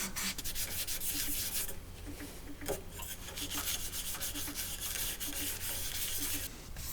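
Rag rubbing sanding paste into a turned wooden bowl on a lathe, a steady close scrubbing hiss with a faint repeating rhythm from the spinning piece.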